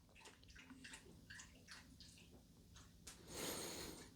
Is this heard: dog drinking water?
yes